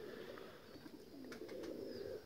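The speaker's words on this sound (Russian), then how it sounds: "вот мои голуби" Domestic pigeons coo steadily at close range on an evening perch, a soft continuous low warble with no talk over it.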